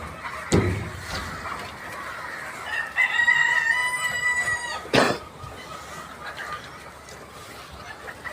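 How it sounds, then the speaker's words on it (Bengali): Chickens at a poultry farm crow and cluck nearby, with one drawn-out rooster crow in the middle and a couple of sharp knocks or slams before and after it. "একটা পোল্ট্রি মুরগির ফার্ম।"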